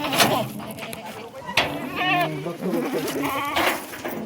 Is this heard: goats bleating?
yes